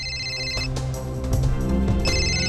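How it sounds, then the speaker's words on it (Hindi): A phone ringtone plays loudly and continuously, a bright repeating melodic tone with a steady beat underneath, no voices. "किसका फोन है?"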